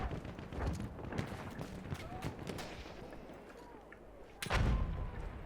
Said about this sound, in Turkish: Uy ne parçalı parça tesirli bombayla vurdu